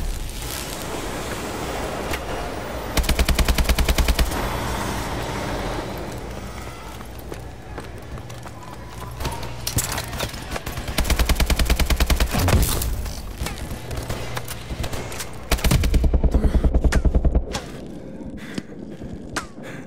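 Gunfire in the video game Call of Duty: Advanced Warfare, repeated bursts of rapid automatic fire in several clusters over a busy background of battle noise.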